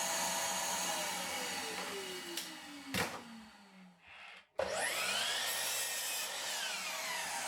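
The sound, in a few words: sawing 2x4 lumber for bench top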